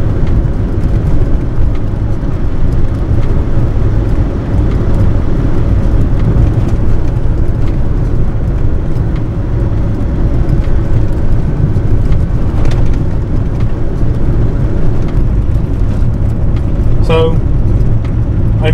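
Cab interior of a 90s Suzuki Carry Japanese kei truck on the move, its engine and road rumble droning steadily and loudly throughout, with a brief high-pitched chirp near the end.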